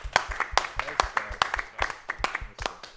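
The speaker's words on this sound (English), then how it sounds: "Round of applause." A small crowd claps at a Big Game draft night event, sparse distinct hand claps mixed with chatter and voices close by.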